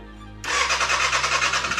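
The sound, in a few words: wrecked 2013 Kawasaki ZX6R motorcycle engine starting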